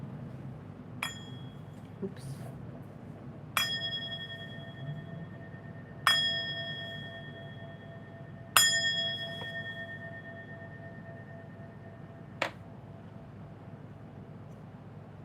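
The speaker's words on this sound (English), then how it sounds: "I'm going to ring the bell." A bell is rung about five times at spaced intervals, each strike bright and clear with a long ringing decay over a low background hum, and a voice speaks briefly once.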